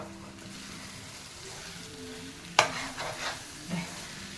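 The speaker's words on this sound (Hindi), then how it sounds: "हल्के हाथों से चला के अब इनको मसालों के साथ 3 से 4 मिनट पकने देंगे" Potato and cauliflower pieces stirred with spices in a frying pan for vegetable biryani give a soft sizzle, with gentle scraping and one sharp clink of a spoon partway through, then a few lighter stirring sounds. No voice is heard.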